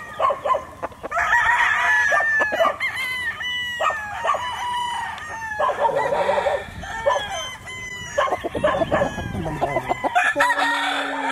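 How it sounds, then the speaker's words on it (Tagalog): A Boston Roundhead gamefowl rooster at a Batangas gamefarm crows repeatedly and loudly close by, with clucking and other fowl calling around it through the whole stretch. "Ito po ang aming Boston Roundhead. Napakaganda pong manok."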